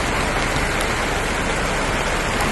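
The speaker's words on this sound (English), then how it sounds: "You see when the rain start fall" Heavy rain falling outdoors, a dense, steady hiss of drops pouring down without pause or voices.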